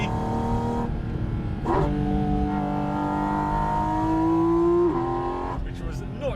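A Porsche accelerating to overtake a Suzuki on a road, its engine revving up in rising, climbing tones with gear changes, close and fairly loud, while people talk over it.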